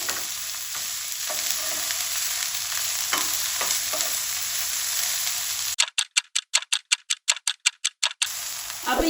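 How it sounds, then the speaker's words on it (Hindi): Okra fries in a pan with a dense, steady sizzle and occasional stirring scrapes, followed by a short run of sharp, regular ticks before the sizzle returns. "अब 2 मिनट ये भिंडियों को हम फ्राई करेंगे"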